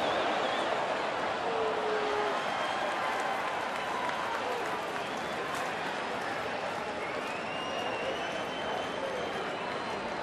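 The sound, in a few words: baseball stadium crowd cheering and applauding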